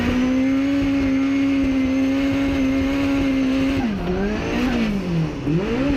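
A Nissan SR20 two-litre four-cylinder engine holds a steady high idle, then revs up and down twice in quick blips, loud and close with no talking.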